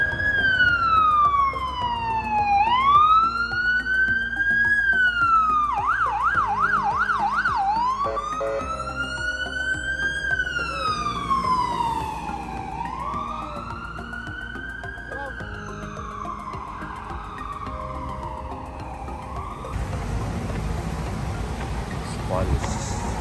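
An ambulance siren wails through a city street at night in Vancouver, its rising and falling wail shifting through several patterns and then cutting to a short yelp, loud and nearby over traffic noise.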